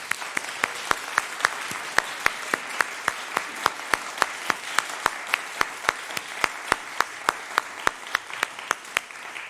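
Steady, rhythmic clapping from a crowd at a church annual meeting, with sharp individual claps standing out in an even beat over a continuous wash of applause.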